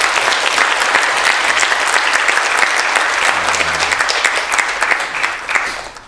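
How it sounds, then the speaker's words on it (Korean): A Korean church congregation applauds together at a Christmas Day service, a loud, steady, dense wash of clapping that holds throughout before tapering at the end. "어제 수고한 여러분 모두 자축하면서 우리 박수 한번 합시다"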